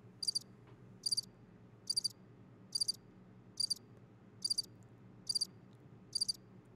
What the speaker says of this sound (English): Where's my goddamn crickets?